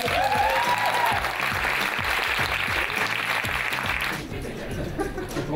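An audience at a screening at the Fantasia festival breaks into sustained clapping, loud and dense, then thins and fades toward the end.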